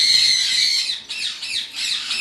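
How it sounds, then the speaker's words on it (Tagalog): A paired mutation pet bird from a red factor and yellow pairing gives harsh, loud, close squawks that run almost continuously with brief breaks. "Nagpares na yung ibon natin."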